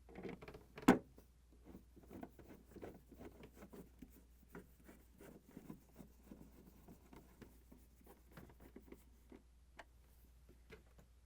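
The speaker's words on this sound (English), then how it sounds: "Using the Phillips screwdriver, we're going to install the screws and tighten them." A Phillips screwdriver tightens screws into the cover panel of a Whirlpool, KitchenAid or Maytag refrigerator. It gives a faint, steady series of small ticking and rubbing clicks, with one sharper knock near the start and no talk.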